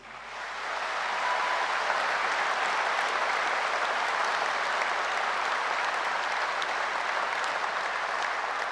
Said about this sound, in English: Let's offer a heartfelt round of applause to all of you